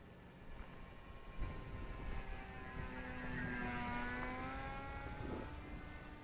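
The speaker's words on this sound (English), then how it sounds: "Such an awesome flying plane." A Volantex Ranger G2 RC airplane with 1200mm wings drones overhead, its electric propeller whine rising and falling in pitch as it passes close, moderately loud over outdoor background noise.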